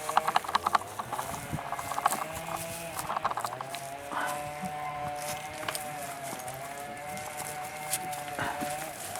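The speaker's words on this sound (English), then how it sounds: "The goats are here nearby." Goats and other livestock move about nearby, with hoof clops, shuffling and occasional faint bleats over a busy background.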